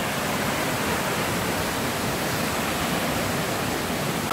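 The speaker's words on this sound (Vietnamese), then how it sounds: "Cuối cùng cũng lại được tới đỉnh thác." A jungle waterfall rushing at the top of the falls, a loud, steady broadband roar of pouring water with no voices.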